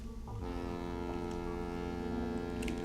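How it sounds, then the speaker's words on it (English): A ship's horn sounds inside Vampire the Masquerade Bloodlines, one loud sustained low blast with layered steady tones that hold across the whole stretch. "Sound the horn."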